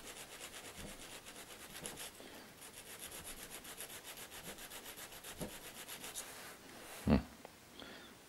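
A carbide needle file rasps across a saw tooth in quick repeated strokes, a dry scraping rhythm close by, ending with a sharp clack.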